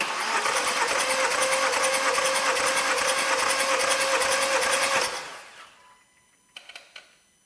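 An engine cranks over without starting for a cylinder compression test, a fast, loud, even chugging for about five seconds that cuts off, followed by silence and a few sharp clicks.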